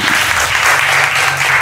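A crowd at a film event applauds, a dense, close burst of steady clapping that fills the short moment without pause and without talk.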